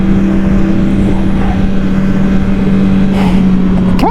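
An MV Agusta Brutale 1000 motorcycle runs loud and close at steady high revs, a dense droning roar under wind, ending with a quick sharp rise in engine pitch as the gear changes.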